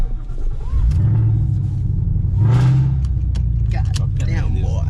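Ford Mustang GT with bolt-on modifications accelerating on a street in Jalisco, Mexico, a loud continuous engine roar with rising pitch that swells near the middle, heard from close by with voices talking over it.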